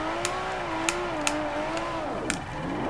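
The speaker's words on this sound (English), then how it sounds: "Listen at that V12 scream." A Lamborghini Sesto Elemento's V12 engine in Forza Horizon 4 holds a high, screaming rev that wavers up and down, dipping briefly near the end, with sharp clicks scattered through it.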